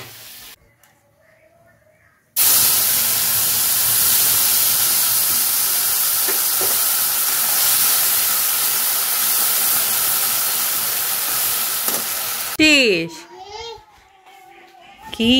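Shrimp and eggplant curry sizzling loudly in a hot pan, a steady hiss of frying that runs unbroken for several seconds, with quieter moments before and a voice and talk following.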